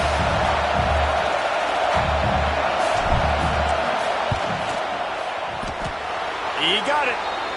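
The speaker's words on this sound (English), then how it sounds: "This crowd trying to do its part to get inside the kicker's head." A college football stadium crowd at Oregon vs UCLA roars in a loud, continuous wash as a field goal kicker lines up, with a commentator talking over it and a brief whistle near the end.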